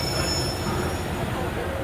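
Karachi Express moving off, a dense steady rumble of rolling wheels and carriage noise with a thin high squeal running over it, loud and continuous as if heard from inside the train.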